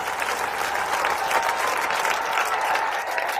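An audience claps loudly and continuously in honour of Sanjeev sir at a company gathering, dense sustained applause with faint crowd murmur throughout.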